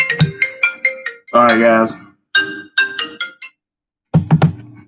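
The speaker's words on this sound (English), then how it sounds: "That was a phone call." A phone rings with an incoming call, a short run of bright, clipped electronic ringtone notes, then someone speaks briefly before one more quick burst of ringtone tones.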